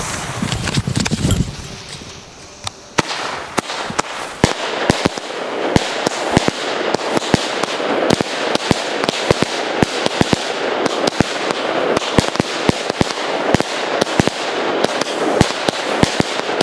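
Firework cakes going off in a rapid, continuous barrage of sharp cracks and bangs, loud and close, sustained for most of the stretch after a brief opening fizz and whoosh.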